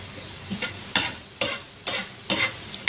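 Finely chopped onions fry in two tablespoons of oil on a tawa over a medium-high flame. A steady close sizzle runs throughout, broken by several sharp stirring scrapes at roughly even intervals, with no talking.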